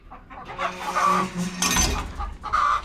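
Farm chickens cluck and chatter up close in a busy, overlapping flock, with soft rustling and a brief low thump mixed in.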